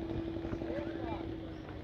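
A steady engine drone with a constant tonal hum from a crowded passenger ferry boat crossing to Mayapur ghat, continuous and moderately loud throughout.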